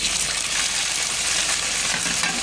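Onions and tomatoes sauté in hot oil, giving a dense, even sizzling hiss with faint stirring underneath, close and steady throughout.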